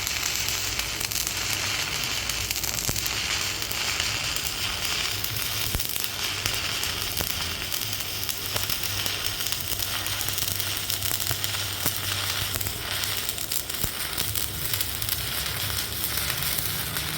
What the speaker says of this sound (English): it's been a minute since I've arc welded.